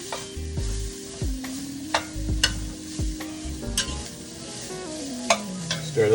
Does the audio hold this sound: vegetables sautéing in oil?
yes